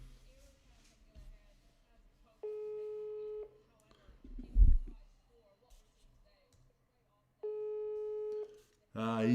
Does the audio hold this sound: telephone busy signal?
yes